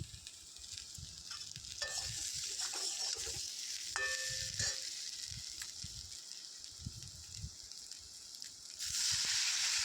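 Ground cumin, coriander and fennel spice mix being stirred in a hot frying pan, a steady quiet sizzle with soft scraping stirs throughout, no voices.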